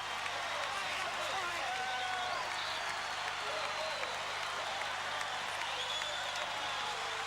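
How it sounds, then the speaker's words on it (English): A capacity crowd in the Glass House basketball arena roars and applauds as North Melbourne win their first NBL championship, a dense, sustained cheer filling the space. "Listen to the crowd."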